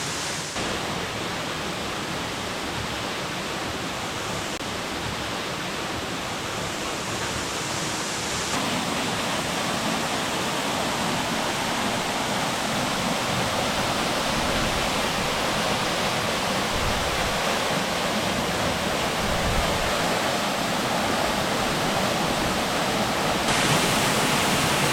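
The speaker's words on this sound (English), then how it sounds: "And that's Lick Branch Falls." Lick Branch Falls in Alabama's Sipsey Wilderness pours out a loud, steady waterfall roar that holds unbroken and alone throughout.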